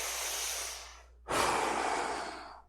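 Loud breathing during a breathing exercise, close and breathy: a long rushing exhale fades out, then after a short gap a strong inhale follows, with no talking.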